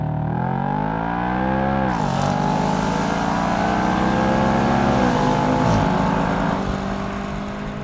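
Audi RS5 Cabriolet with a 7-speed dual-clutch gearbox launching hard under launch control, engine roaring loud and close as it climbs through the revs with quick upshifts, no talk.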